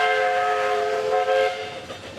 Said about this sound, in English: Safari train crossing.